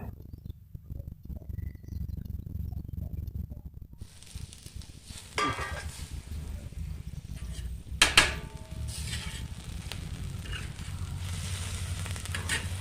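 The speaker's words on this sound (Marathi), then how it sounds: "भाजी पण आपण परतून घेऊ भिजवलेली डाळ आता त्यात टाकूया चांगलं मिक्स करूया हे सगळं" Drumstick leaf sabzi sautéing in a pan with soaked dal stirred in, giving a steady low sizzle with occasional scrapes and clatters of the spoon mixing, close and continuous.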